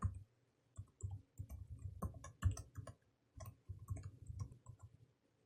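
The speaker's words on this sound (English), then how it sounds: "So I'll type in the password." A password is typed on a keyboard in quiet, irregular bursts of soft clicks with short pauses between runs of keystrokes, close and faint, no speech.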